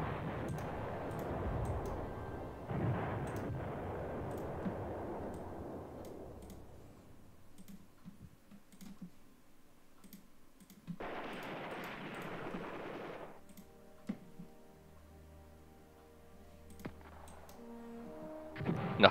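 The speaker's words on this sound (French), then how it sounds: "Artillerie qui tire déjà." Artillery fires in the World War II strategy game Command Ops 2, set around Caen on 6 June 1944, with scattered booming bursts and rumbles separated by quieter stretches of faint ticking.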